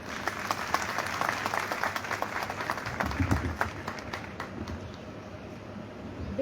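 Audience at a college convocation ceremony applauding to welcome an MP: sustained, dense clapping from a large crowd, steady and fairly loud, easing slightly toward the end.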